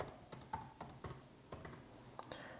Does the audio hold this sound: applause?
no